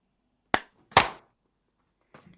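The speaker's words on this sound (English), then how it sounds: "that was a very efficient clap" Two sharp hand claps ring out close in a quiet room, the second a touch fuller, followed after a pause by a couple of faint light taps.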